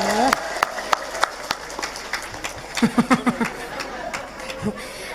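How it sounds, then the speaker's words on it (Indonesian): Crowd applause at a humorous Islamic sermon, scattered claps and a loose rattle of hands, with chatter and laughter from the audience mixed throughout. "Tepuk tangan dulu, luar biasa."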